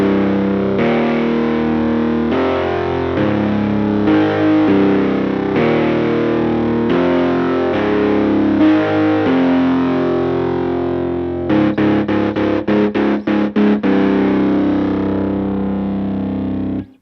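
A chord pattern in FL Studio plays in standard tuning, heavily distorted synth chords sustaining loud and steady, then breaking into a fast stuttering series of short repeated stabs near the end.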